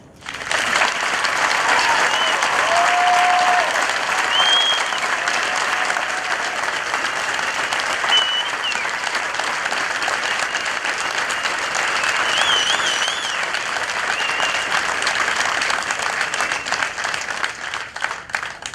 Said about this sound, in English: please give a round of applause for your soldiers